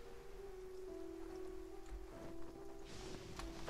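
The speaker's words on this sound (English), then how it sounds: "I know there's a quest to like stop the rain" Rain falling in the video game Genshin Impact, a soft steady patter of drops on surfaces, fairly quiet and continuous, with faint tonal game music underneath.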